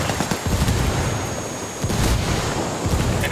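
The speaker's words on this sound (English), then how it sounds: "I'm throwing frags around you, Muffin." Frag grenades in Ghost Recon Wildlands go off as three heavy, booming blasts spaced about a second apart, each followed by a rumbling tail over steady background noise.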